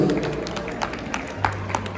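Scattered hand claps from guests at a wedding gathering for a bride leaving her father's home, a few sharp claps over a low hum with faint voices in the room.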